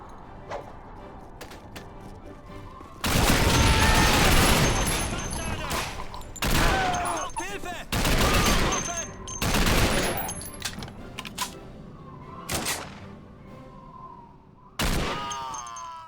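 Bursts of gunfire in Call of Duty 2 with the Back2Fronts mod, loud rapid volleys and single shots crackling in clusters across a building-clearing fight, with a faint voice under the quieter stretches.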